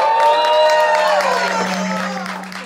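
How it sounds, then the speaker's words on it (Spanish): A live studio audience bursts into loud, sustained applause and cheering for a guest on a wine-themed comedy show, with musical tones ringing over the crowd before the clapping slowly fades. "Pido un aplauso muy fuerte para Vale Acevedo."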